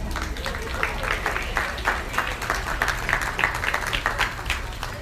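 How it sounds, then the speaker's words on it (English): An audience at a Holstein youth dairy cattle show claps steadily in a sustained, even round of applause filling the arena, with a voice faintly underneath. "Give them a round of applause."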